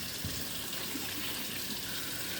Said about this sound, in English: All right, wash my hands.